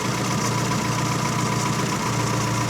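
Classic Mini car engine running steadily at high revs during tuning, a loud continuous drone with no gaps.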